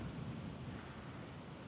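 A thunderstorm with rain: a low, steady rumble of thunder over a hiss of falling rain, faint and distant, lasting under two seconds.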